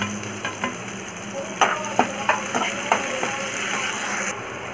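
Onion and ginger-garlic paste, added after fennel seeds, fry in a pan for a prawn pepper fry. A steady sizzle runs throughout, broken by several sharp scrapes and knocks of a spoon stirring the pan.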